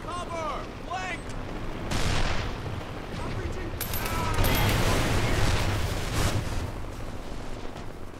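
Heavy gunfire and explosions from the Mercenaries 2 video game mission in China, dense rattling bursts and booming blasts rolling almost continuously across the scene, with voices speaking over the barrage.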